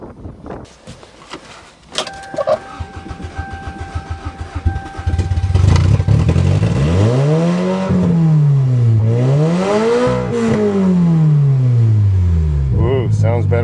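Toyota GTS that had been misfiring, started in January: clicks and cranking give way to the engine catching about five seconds in, followed by a loud, close idle with several rising and falling revs.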